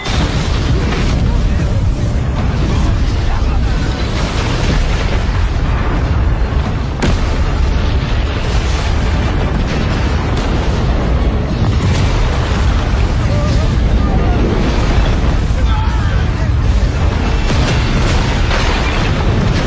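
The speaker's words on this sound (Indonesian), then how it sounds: "Ledakan luar biasa Edun barusan jelas memancing perhatian seluruh pihak" A huge explosion from the animated series Soul Land 2 roars as a loud, sustained, dense rumble with bursts and crackling, holding at full intensity for the whole stretch while a voice narrates over it.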